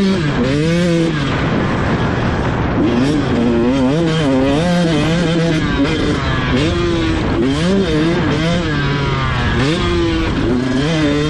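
Dirt bike engine on a motocross track at Bartow, running loud and continuous throughout with rising and falling revs as the rider shifts, several engines overlapping close by.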